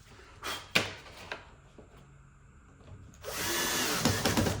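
A power tool drives screws into a cleat in a home workshop: a few short whirring bursts, then a louder sustained run near the end, close by with no talk.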